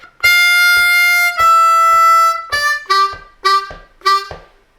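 A C harmonica plays a short phrase from a song: two long sustained notes, then four quick detached notes in rhythm, clear and close with no talking.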